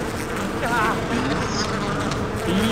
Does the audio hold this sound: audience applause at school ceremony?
no